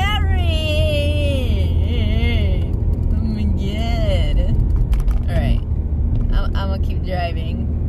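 A car drives along a foggy road, its steady road rumble and engine drone filling the clip beneath continuous talk from people inside.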